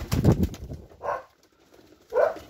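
Pigeons at a columbophile's loft coo in three soft, separate bursts, fairly close and heard alone without talk.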